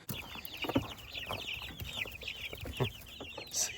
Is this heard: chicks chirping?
yes